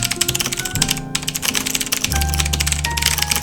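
Rapid typing on a computer keyboard during a Typeracer typing game: a close, busy stream of key clicks with uneven rhythm, heard alone without talk.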